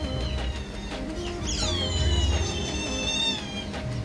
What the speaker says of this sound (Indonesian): Kucing lur, kucing. Ternyata ada kucing lur.